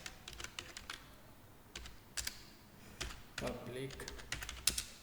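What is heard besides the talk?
typing test code on computer keyboard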